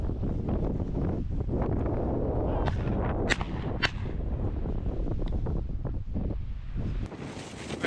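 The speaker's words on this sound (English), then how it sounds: "It's really windy out" Strong wind buffets the microphone in a continuous, loud roar, with a few sharp gusts and snaps cutting through, in an open field during a pheasant hunt.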